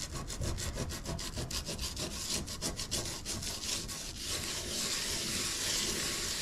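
Dried salt crystals rubbed off the surface of a watercolor painting by hand, making a close, continuous dry scraping and scratching in quick rhythmic strokes that smooth into a steadier rasp near the end.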